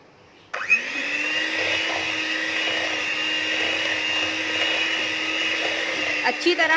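Electric mixer beats a strawberry ice cream mixture in a large bowl, a steady high whirring drone switching on abruptly and running continuously for several seconds, close and fairly loud, with a few bumps near the end.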